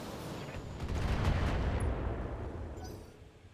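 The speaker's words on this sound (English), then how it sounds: "Firing. All weapons." Mech weapons fire in the Battletech Extended Mod game, heard as a heavy, rumbling salvo of booming blasts that swells and then slowly fades, with no talking.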